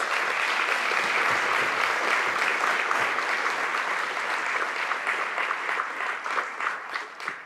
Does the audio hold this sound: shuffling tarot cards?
no